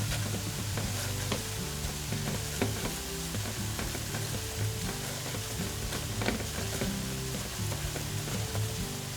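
Sifted flour is stirred and toasted in a hot pan as a vegan spinach lasagna béchamel begins: a steady close sizzle with the scrape of stirring running under it throughout.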